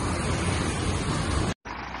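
An overloaded truck driving, a steady broadband rumble of engine and road noise, moderately loud and continuous, with a brief dropout near the end.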